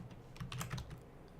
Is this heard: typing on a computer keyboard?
yes